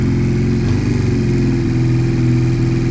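A Piaggio Fly scooter idles steadily after a cold start on the choke, a close, loud, even buzzing engine note that holds its revs slightly high for the whole stretch, with no voices.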